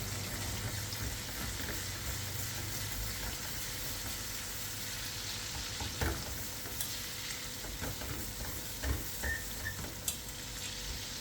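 Garlic and cayenne pepper sizzling in hot oil for gambas al ajillo, a soft continuous frying hiss with a few faint clicks and scrapes, close but quiet.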